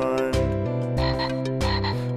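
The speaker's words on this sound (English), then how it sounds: "Five green frogs all sitting on a log take turns as they jump into the pond." Green frogs croak in a rhythmic, repeating pattern of short, even pulses set against a steady tonal backing in a children's animal song. The sound is close and unbroken, with no speech.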